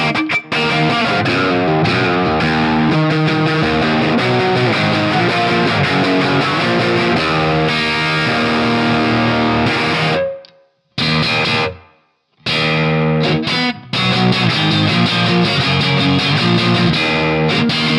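Electric guitar played through the driven BT PT50D2 amp preset, heavily distorted and very dirty, strumming dense chords loudly with a brief pause of near silence partway through before resuming.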